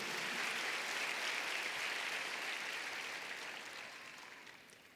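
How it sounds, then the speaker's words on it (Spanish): A church congregation applauds during a Sunday sermon, a dense, steady wash of clapping that fills the room and slowly fades toward the end. "Dale un aplauso a Jesús en este día, porque Él vive."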